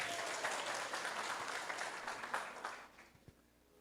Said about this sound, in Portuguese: Uma forte salva de palmas para vocês.